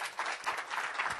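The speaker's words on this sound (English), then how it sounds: "Can we give our speakers a round of applause?" A conference audience claps for speakers in a short, faint burst of scattered applause heard from a distance.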